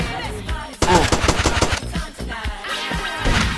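Rapid automatic gunfire in GTA Vice City Stories, loud bursts of machine-gun shots repeating throughout with sharp onsets and brief gaps between volleys.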